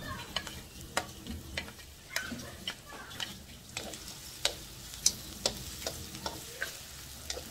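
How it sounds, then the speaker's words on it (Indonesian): Shallots sautéing in a pan for a young papaya stir-fry, with a steady close sizzle broken by sharp spatula scrapes and taps against the pan at a fairly regular pace. "Bawang merah kita tumis sampai agak layu sedikit"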